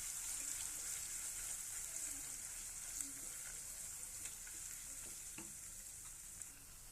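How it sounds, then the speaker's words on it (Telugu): Chili powder frying in hot oil in a pan for a bitter gourd fry, a steady soft sizzle with occasional light clicks of stirring, close and fairly quiet, with no talking. "చూడండి దీన్ని మనం కొంచెం వేపుకుందాం"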